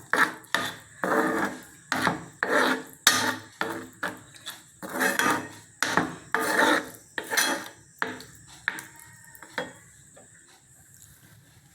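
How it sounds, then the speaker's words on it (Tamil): Repeated scraping strokes of a spoon stirring carrot and moong dal halwa in a pan, steady and rhythmic and close, easing off toward the end, with no voices. "நல்லா கிண்டி விட்டுருலாம்."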